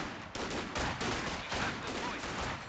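Mortar and gunfire in a real-time strategy game, with dense overlapping bursts of shots and booms that continue without a break for the whole stretch, loud and close.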